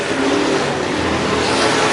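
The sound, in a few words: race cars driving down the back straightaway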